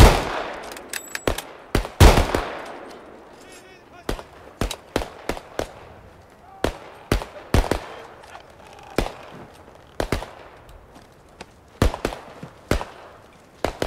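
A firing squad's rifles fire in sharp, loud cracks, a tight volley followed by many irregular single and clustered shots over about fourteen seconds, with brief voices in between.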